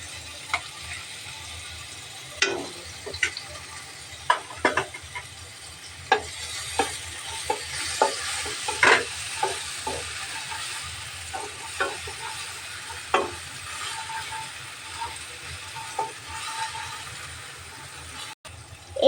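Onion, garlic, chili and cumin pastes sizzle and fry in hot oil in a pan, a steady close crackle broken by repeated stirring clinks and scrapes, with no talking.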